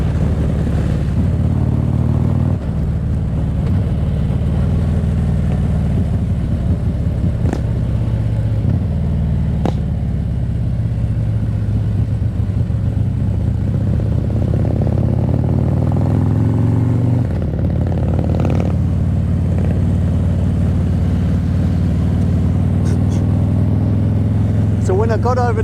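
Harley-Davidson motorcycle on a demo ride, leaning over and working harder through corners, its engine droning steadily under loud wind buffeting, with a voice talking over it throughout.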